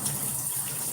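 Warm shower water runs steadily in a continuous broadband hiss, close and moderately loud, with no voices over it.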